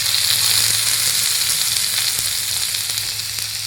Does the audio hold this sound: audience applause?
no